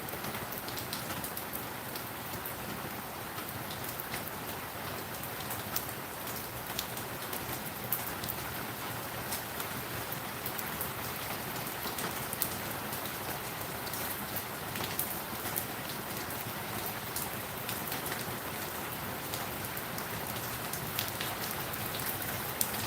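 Rain falls steadily on outdoor surfaces, a dense, even patter of drops with scattered sharper taps, continuous and moderately close.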